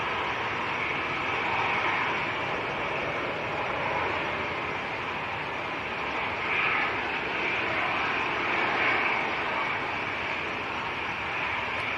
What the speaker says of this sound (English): Next arrival coming in, this is a TUI